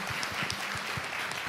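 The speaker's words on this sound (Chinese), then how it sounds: "我哋俾啲掌声我哋神啦" A church congregation claps together during a Sunday sermon, a steady, even wash of applause heard from within the room with no talking over it.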